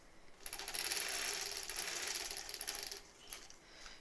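A sewing machine stitches along a line on a foundation paper pieced quilt block, giving a close, steady mechanical whir with rapid rhythmic ticking that runs for a few seconds and then slows into a few separate clicks.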